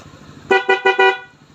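Four quick toots of a stock car horn in a rapid burst, loud and close, over a low idling engine.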